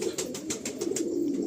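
Andhra pigeons cooing in a loft, a steady series of soft, repeated coos that pulse about every fifth of a second. They are fairly close, with no talking over them.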